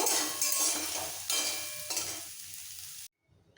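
Loud, bright sizzling of soybean chunks frying in hot oil until light brown, with occasional stirring scrapes, cutting off abruptly near the end.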